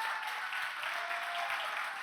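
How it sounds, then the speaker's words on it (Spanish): An audience at a conference keynote gives a brief burst of dense, steady applause, heard at moderate volume. "Despidámonos del Facebook con un fuerte aplauso."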